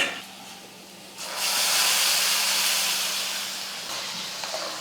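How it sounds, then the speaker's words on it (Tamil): A loud hiss of hot oil tempering poured into tomato rasam bursts in after a quiet second, sizzling steadily and slowly fading. "தாளிச்சதை ரசத்தில் ஊற்றிட்டு"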